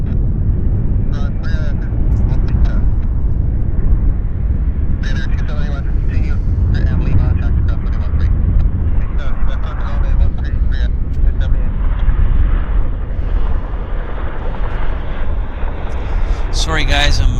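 Alaska Airlines airliner at Vancouver Airport, a broad steady roar of jet engines with wind noise on the microphone, holding loud throughout, with scattered voices over it.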